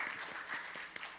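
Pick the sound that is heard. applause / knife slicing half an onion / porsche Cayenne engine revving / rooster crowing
applause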